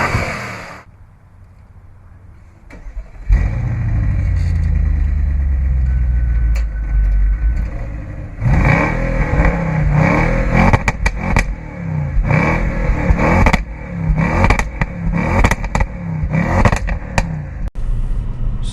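A 2015 Audi RS7 with its 560 horsepower engine is driven on the road: after a quiet start the engine starts up, settles into a steady drone, then revs and accelerates hard in repeated surges through the gears, loud and close.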